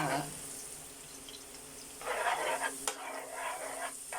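Squid frying in oil with pechay gets stirred in a pan, a soft sizzle punctuated by bursts of scraping and clattering spatula strokes, with faint talk in the background.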